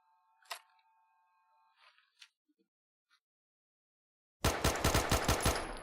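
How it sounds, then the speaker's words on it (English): Rapid pistol fire from a hair-trigger pistol in Fallout 4, a loud tight burst of about eight quick shots at the end after near silence, with faint clicks earlier. "That is a super high rate of fire with that hair trigger on there."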